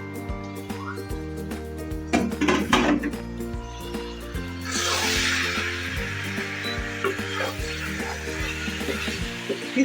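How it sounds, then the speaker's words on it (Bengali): Metal pot lid clatters onto a cooking pot holding about two kilograms of spiced beef rezala, with a burst of clanks around 2–3 s and soft sizzling underneath, close and fairly loud with no talking. "এবার আমি ঢাকনা দিয়ে ঢেকে দেব।"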